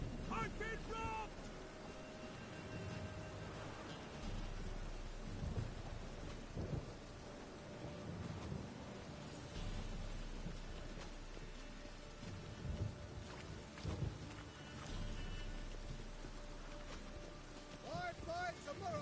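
A thunderstorm in The Witcher 3 brings steady rain hiss, with rolling thunder rumbles swelling in and out. Faint game sounds sit underneath, and the whole scene stays low in level.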